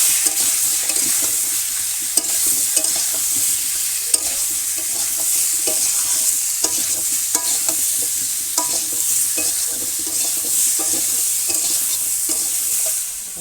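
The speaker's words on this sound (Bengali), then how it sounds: "লাল লাল করে ভাজবো গোটা আলু দিয়ে রান্না করছি" Snakehead fish frying with whole potatoes in a village kitchen, seasoned with salt and turmeric, hisses in a loud continuous sizzle, with scattered pops and the scrape of stirring.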